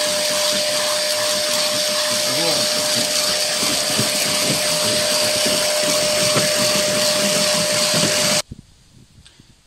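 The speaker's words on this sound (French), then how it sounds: "Je vais d'abord mettre un coup d'aspirateur pour que vous vous rendiez compte." Vacuum cleaner running on car carpet inside a vehicle, a loud steady whine with a constant tone that holds for about eight seconds, then cuts off abruptly, leaving quiet handling noise.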